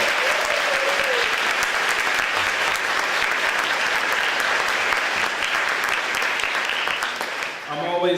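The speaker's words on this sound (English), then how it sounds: "huge round of applause" Big, dense round of applause from an audience at a school reading-gains recognition event, a sustained wash of many hands clapping at full strength that fades slightly near the end.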